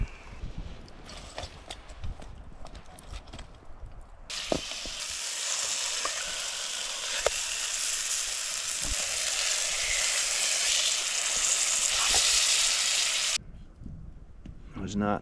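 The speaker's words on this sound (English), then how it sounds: "Let's go fry it up." Food sizzles loudly and steadily in a pan over a winter campfire in an Alaskan rainforest, with occasional stirring knocks and quieter surroundings before and after.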